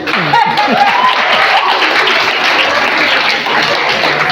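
An audience at a sickle cell disease talk breaks into loud, sustained clapping that fills the room, with a voice briefly heard under the start.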